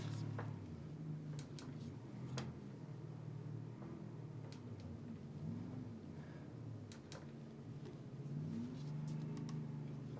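A car driven in a sim racing video game with traffic, a steady low engine hum with mild rises in revs, plus a few faint clicks on top.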